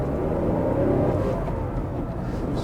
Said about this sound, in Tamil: ஸோ நல்லா ஸ்டார்டிங்கில் ரெவ் ஆகுது.